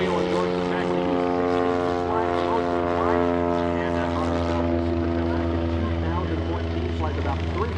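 A STOL propeller aircraft at the EAA AirVenture STOL competition roars with a strong steady engine and prop drone, loud and close, while someone talks over it.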